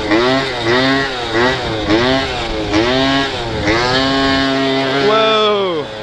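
A 50cc scooter engine revs up and down repeatedly while riding a wheelie over bumpy city streets, with loud, close, rising and falling whines in quick succession.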